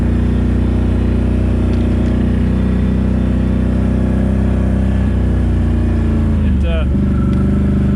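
An ATV engine drones loudly and steadily up close while riding through leftover snow from a storm, with a brief shift in pitch near the end and a voice talking over it.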